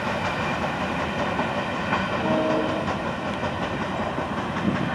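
A Florida East Coast local freight train rolls past on the mainline, a steady dense rumble of wagons with faint rhythmic clacking throughout, fairly loud and continuous with no voices.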